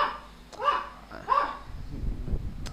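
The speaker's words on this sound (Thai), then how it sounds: "หมามันเห่าฮะ หมาที่บ้าน" A dog barking at home: two short, mid-distance barks a moment apart, set against a quiet indoor background, followed by low rumbling noise.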